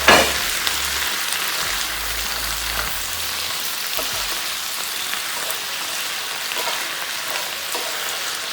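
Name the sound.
tofu and vegetables stir-frying in a pan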